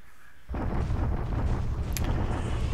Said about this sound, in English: Japanese bombardment.